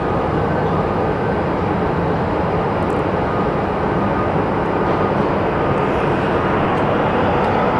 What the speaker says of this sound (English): our Santa Ana plane is finally getting into position for takeoff